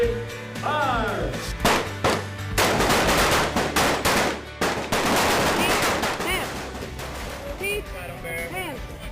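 Rapid bursts of gunfire at an Air Force basic training range, loud and close, with volleys repeating densely across the whole stretch while voices call out underneath.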